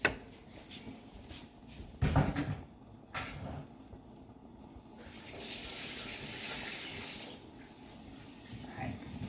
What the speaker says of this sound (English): Pour a little water out, y'all.